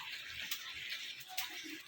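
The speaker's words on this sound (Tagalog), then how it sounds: "Ito ay tatanggalan ng tubig na mainit." Hot water pours off boiled banana heart being drained in a kitchen, a soft, steady hiss of splashing liquid that lasts about two seconds.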